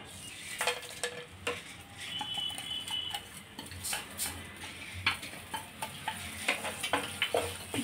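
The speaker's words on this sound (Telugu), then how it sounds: "ఆయిల్ హీట్ అయిన తర్వాత పలావ్ గింజలు వేసుకోవాలి." Whole spices crackle in hot oil at the start of a biryani, a light sizzle broken by clinks and scrapes of a metal spoon against the pan, close and fairly quiet with no voices.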